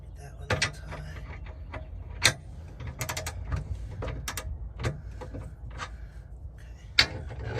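Ratchet wrench tightening bolts on an Andersen RV Ultimate fifth wheel hitch, with short bursts of clicking pawl and metallic clanks spread unevenly across the clip, close and moderately loud over faint background noise.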